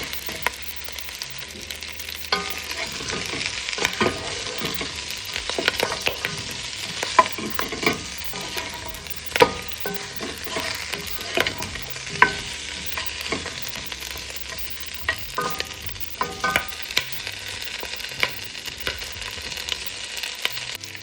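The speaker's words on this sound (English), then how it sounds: "I can leave this to brown." Pieces of beef and other ingredients browning in a pot for Jamaican stew peas, a steady close sizzle and frying crackle with scattered pops and occasional stirring scrapes, no voices.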